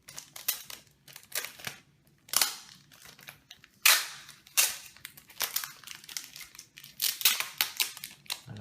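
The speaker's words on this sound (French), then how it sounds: "Je suis en train de ouvrir le booster à cause du scotch." Hands tearing at tape and foil on a taped Pokémon booster pack, a series of sharp crinkling and ripping bursts in irregular rhythm, close and fairly quiet.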